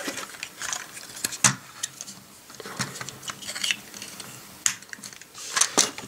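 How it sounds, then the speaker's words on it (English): Plastic parts of a Fans Hobby MB-06 Power Baser robot toy are folded and snapped shut by hand, making a close series of sharp clicks and small clacks at an uneven pace, with no talk over them. "Untab the arms, bring them around the other side, untab it, bring it to the other side, fold these pieces down, fold these around, and close it"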